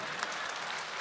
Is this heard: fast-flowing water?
no